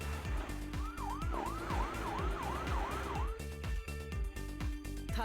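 Rapid wavering siren from a fire truck in a kids' car repair video game, repeating about eight cycles over bouncy game music before stopping, with the music carrying on alone.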